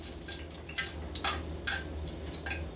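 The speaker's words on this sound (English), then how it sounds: "It's making that frying sound just for me sprinkling the water." Hot frying grease for a Cornish hen, sprinkled with water to test it, gives off faint, scattered crackles and pops over a low steady hum, quiet and close.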